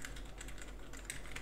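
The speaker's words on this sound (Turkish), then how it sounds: "Ciddi anlamda bir mekanik klavye hissiyatı verilmiş. Tuşların basımı, sesi." Rapid typing on a Rampage KB-R24 X-Mini RGB keyboard, with steady, close clicking keystrokes and no pauses.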